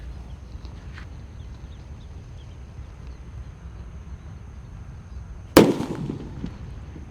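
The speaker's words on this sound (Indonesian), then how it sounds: "yang kita nyalakan di sini ada mercon petir" A mercon petir thunder firecracker set in a hole in the ground bursts with a single sharp, loud bang over quiet outdoor background noise, followed by a brief crackling tail as it fades.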